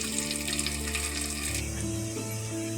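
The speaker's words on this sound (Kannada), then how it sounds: "ಇವಾಗ ಇದಕ್ಕೆ ಈರುಳ್ಳಿ ಹಾಕ್ಕೊತಾ ಇದ್ದೀನಿ" Onions frying in a pan for chicken biryani give a steady, close, loud sizzle with bright crackle throughout, shifting slightly partway as the frying settles, with no voices.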